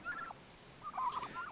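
Turkeys on a farm gobble in two bursts, a short one at the start and a longer rattling call near the end, at moderate distance with no talk over them.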